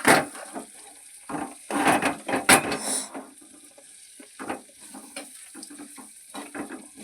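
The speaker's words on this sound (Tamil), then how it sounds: "கிண்டி விட்டு சீக்கிரம் நல்லா கிண்டி விட்டுக்கலாம்" Food stirred in a pan with oil while it cooks makes intermittent scraping and sizzling bursts, louder near the start and then lighter, irregular stirring strokes against a quiet background.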